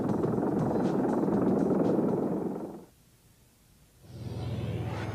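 A Sikorsky RH-53 Navy minesweeping helicopter roars steadily with deep rotor drone, fades sharply for about a second, then returns loud again.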